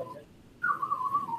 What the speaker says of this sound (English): I can get a little vibrato in my whistle